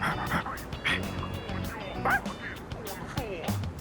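Koromaru, the dog in the Persona 3 Reload video game, barks and whimpers in short yips among game music and sound effects, with a voice talking intermittently.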